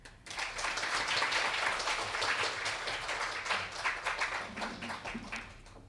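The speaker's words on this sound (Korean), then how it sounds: "다시 한번 큰 박수 부탁드립니다" A seated audience at a 2023 nursing management workshop in the Lotte Hotel bursts into sustained applause, dense overlapping clapping filling the hall at steady strength before thinning into scattered claps toward the end, with no voices heard.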